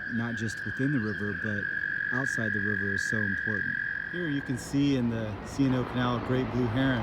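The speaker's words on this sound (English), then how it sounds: "it's one of the most beautiful things in the spring to hear the spring peepers come out and make these little noises" Spring peeper frogs call from the C&O Canal along the Potomac in spring: a steady, high, continuous chorus runs under someone talking for most of the clip, then fades.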